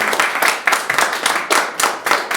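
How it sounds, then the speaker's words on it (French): An audience at a French stage show applauds in close, loud bursts of clapping with a choppy, uneven rhythm, no voices over it. "on peut l'applaudir"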